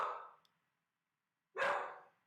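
A dog gives two separate, fairly close barks with a pause of about a second between them, and nothing else around.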